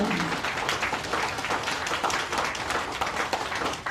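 Audience applause welcoming a former minister introduced at a lecture, dense clapping from a crowd that holds steady and loud for several seconds without speech.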